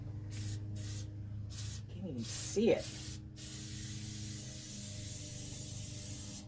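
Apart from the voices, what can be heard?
spray can spraying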